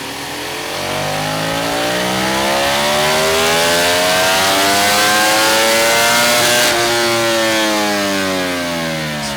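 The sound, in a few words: Ducati Panigale V4S superbike revving on a dyno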